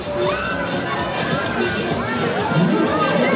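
A crowd of riders shouts and cheers on the Ghost Rider fairground ride at Massy during a final acceleration, a continuous loud mass of voices with children's screams rising above the din.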